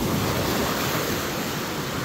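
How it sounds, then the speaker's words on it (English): Big ocean waves break and wash along a beach, a loud continuous roar of surf with wind buffeting the microphone and no talking. "There's some big waves, Harley."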